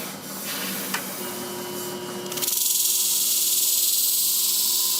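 Thinning shears are sharpened on a coarse pink stone with a continuous close rasp of steel on stone that shifts midway into a brighter, louder steady hiss.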